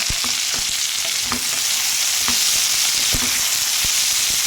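Egg and capsicum fry loudly in a pan, with a constant close sizzle broken by regular scraping strokes as the mixture is stirred.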